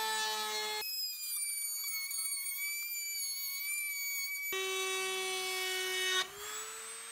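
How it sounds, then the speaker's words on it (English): Wood router trimming the edges of a bassinet board, a loud continuous high whine that shifts pitch as the cut changes, with one brief dip partway through. "once you've taken the router all the way around it"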